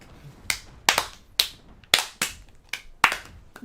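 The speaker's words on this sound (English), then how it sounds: "let me start clapping." Sharp hand claps, about nine of them, spaced irregularly with brief silences between, crisp and close.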